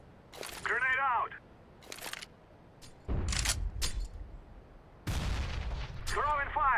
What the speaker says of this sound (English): Throwing a grenade. Grenade out.